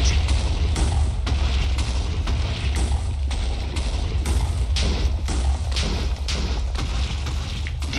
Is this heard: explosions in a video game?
yes